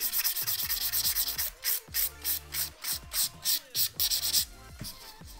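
A 240 grit file rasps back and forth over an acrylic gel press-on nail in quick, even strokes, close up and clear, about a dozen rhythmic rubbing passes with no talking.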